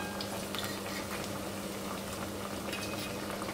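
Tapioca vada frying in hot oil on a low flame, a steady dense bubbling and sizzling that runs evenly throughout, close and moderately loud with no talking.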